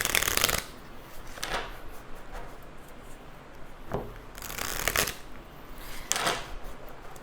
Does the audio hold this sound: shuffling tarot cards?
yes